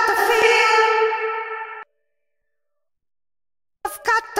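A Baby Audio Crystalline reverb plugin applied to a vocal: a sustained, echoing tone rings for nearly two seconds and cuts off abruptly into silence, then a brief dry vocal phrase returns.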